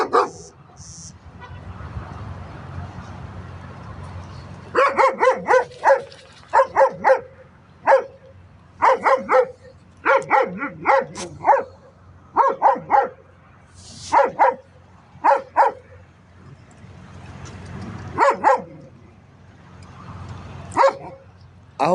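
Rescue dogs barking in repeated bursts, several loud, close barks and yips in irregular clusters separated by short pauses, over a low background hum.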